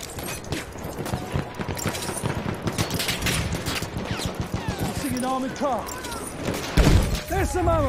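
Machine gun fire in the World War I shooter Battlefield 1 rattles in rapid, dense bursts across the whole stretch, with shouted voices breaking in near the end.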